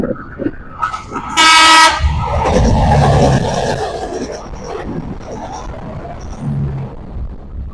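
An airport train to Adi Sumarmo International Airport in Indonesia rumbles past close by and blasts a loud horn early on, the heavy rolling noise continuing before fading.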